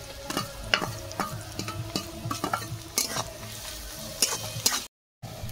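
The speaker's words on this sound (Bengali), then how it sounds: "পেঁয়াজ ভাজা ভাজা হয়ে আসছে।" Onion frying in a pan with grated ginger and garlic, a steady sizzle broken by repeated scraping strokes as a spoon stirs the mixture, close and fairly loud with no talking.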